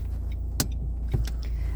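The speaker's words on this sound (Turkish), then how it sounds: "aracımızı kalkış vitesi olan birinci vitese alıyoruz ve el frenimizi indiriyoruz" In a car on a driving test course in Konaklı, Alanya, the handbrake is released and first gear is selected, making a few short mechanical clicks and clunks over a low, steady idling engine hum.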